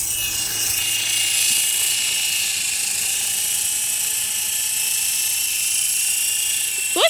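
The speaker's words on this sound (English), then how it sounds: "What's that helicopter that's flying?" A small toy helicopter hovers and flies nearby, giving a steady high-pitched motor whine that holds evenly for several seconds with no talking.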